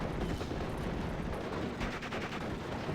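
Gunfire from a Bren gun group in a WWII strategy game, a dense, continuous clatter of shots with distant battle noise, steady and loud throughout with no talk.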